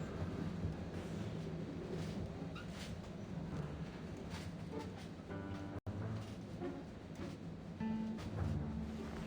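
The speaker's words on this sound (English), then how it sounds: "The train is finally moving." A moving train in the game Reverse 1999 rumbles steadily and loudly throughout, with a continuous clattering roar and a brief dropout partway through, without any talking.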